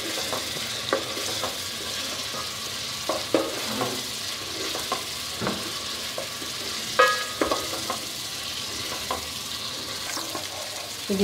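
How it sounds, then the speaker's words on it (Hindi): Garlic ginger paste fries in a pan, a continuous close sizzle broken by scraping stirs and occasional clinks of the spoon, with no talking. "ये देखिए इस तरह हम इसको भूनते रहेंगे जब तक इसमें से लहसुन का कच्चापन ख़त्म नहीं हो जाता।"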